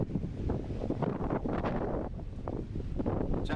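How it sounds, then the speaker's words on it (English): Headwind buffets the microphone during a street car event at Kooralbyn Valley, Australia, with loud irregular gusting rumble that rises and falls for several seconds. "a 10-mile headwind just comes up straight away."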